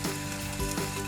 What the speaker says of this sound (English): oh, we're already boiling there.